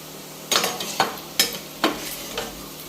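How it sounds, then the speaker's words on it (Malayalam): Beef frying in a pan for beef pickle: a soft sizzle under a series of sharp scraping stirs, about five strokes spaced roughly half a second apart. "ഇപ്പോൾ ബീഫ് പിക്കിളിനുള്ള ബീഫ് ഞാൻ വറുത്തുകൊണ്ടിരിക്കുക"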